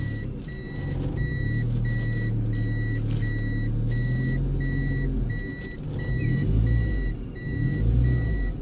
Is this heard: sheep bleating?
no